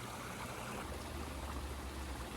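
Steady broadband rush of water pouring from a backyard koi pond waterfall, continuous and even throughout with a low rumble underneath, no voices.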